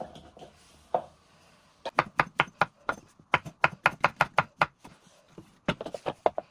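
Knife chopping mushrooms and vegetables on a cutting board, rapid close crisp taps in quick runs with brief pauses, loud and clear with no talk.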